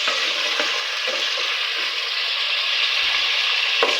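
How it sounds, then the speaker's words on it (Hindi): Potato pieces for aloo palak sizzle steadily in a hot pan, a continuous close frying hiss with occasional soft stirring clicks and scrapes throughout. "आलू को 2 से 3 मिनट हम अच्छी तरीके से फ्राई करेंगे।"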